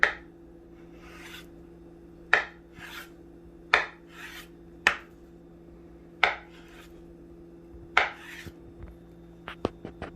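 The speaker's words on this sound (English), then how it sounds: "First, cube 12 tablespoons of butter." A knife cubing butter on a cutting board, sharp separate chops spaced every second or two with short scraping rubs between them, close and clear with no talking.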